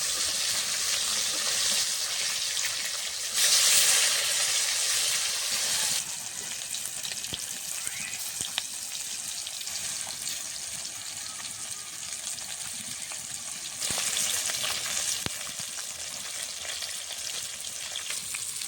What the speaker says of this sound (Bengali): মাছগুলো উল্টে দেব। দেখুন এই পাশটা কত সুন্দরভাবে ভাজা হয়েছে।